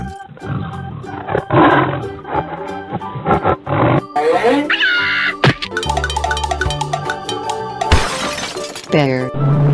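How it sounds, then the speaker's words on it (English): A lion roars loudly among a busy mix of crashing, shattering and jangling sound effects, with several bursts of growling roars spread across the stretch. "Lion."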